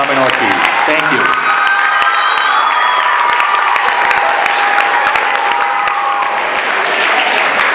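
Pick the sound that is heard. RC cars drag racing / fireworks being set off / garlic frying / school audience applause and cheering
school audience applause and cheering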